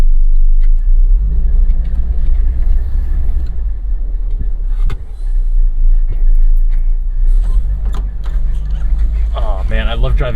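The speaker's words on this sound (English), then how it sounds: "There's so many more noises and shakes and rattles, and the whole car is vibrating from the engine" Engine rumble from a 1988 Mazda 323 while driving, a steady low drone with shakes and rattles throughout, close and loud, with a brief dip midway and people talking over it.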